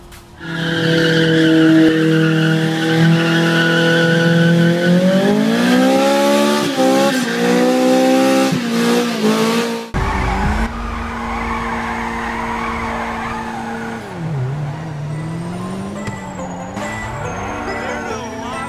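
A Futo drifting sideways on city streets in GTA 5 with the Slidey Cars cheat: loud, continuous engine revving with rising and falling pitch and tire skidding, close up. A voice talks over the second half.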